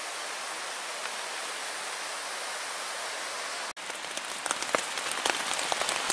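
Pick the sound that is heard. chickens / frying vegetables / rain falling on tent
rain falling on tent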